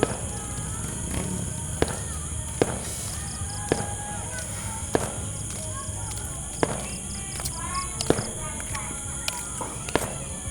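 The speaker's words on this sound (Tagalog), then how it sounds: "Dili nindot ila fireworks do." Fireworks burst at intervals, sharp separate bangs over a constant outdoor background hum, some louder and others more distant.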